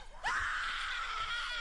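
A sustained, loud, high-pitched blood-curdling scream cuts in abruptly and holds steadily to the end, over faint low rumble.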